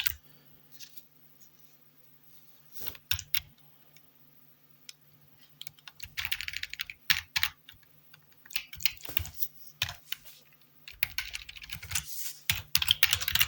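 Typing on a computer keyboard while building a web scraper, irregular bursts of light clicking keystrokes with pauses between, close and fairly quiet.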